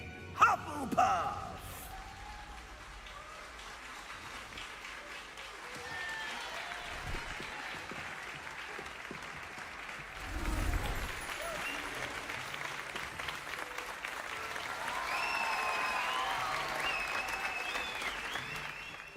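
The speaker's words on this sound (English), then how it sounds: "Wait, why are the Gryffindors all cheering?" Gryffindor students in the Hogwarts Legacy video game cheer and applaud in a great hall, a steady crowd roar with scattered clapping that swells near the end, mixed with game ambience and a brief thud.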